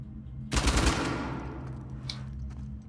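A sudden burst of rapid automatic gunfire in Uncharted: The Lost Legacy erupts after a moment of quiet, loud and rattling for about half a second, then decays into a long echoing rumble.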